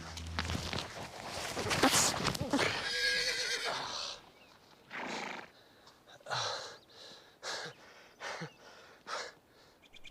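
A horse neighs loudly and close, followed by snorts, heavy breathing and scattered hoof clip-clops as it shifts and moves, with quiet gaps between the bursts.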